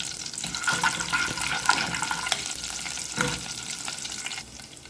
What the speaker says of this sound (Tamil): இது நல்லா ஆயில் ஹீட் ஆகக்குள்ள நான் கறி லீவ்ஸை போட்டுக்கிறேன். அதோடு நான் இதுக்கு லைட்டாக வெந்தயம் ஆட் பண்ணிக்கிறேன்.